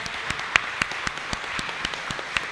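A church congregation at a celebration service claps in scattered, uneven strikes, light and sparse rather than a full ovation, with no talking over it.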